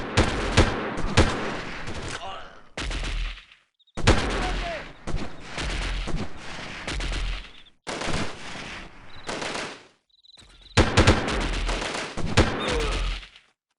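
Automatic weapon fire in the 1998 video game Delta Force comes in several loud, rapid bursts separated by short silent gaps.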